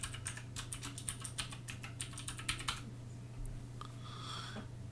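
A computer keyboard being typed on while a username and password are entered, with rapid close clicking keystrokes in quick bursts for about three seconds, then sparse taps over a low steady hum.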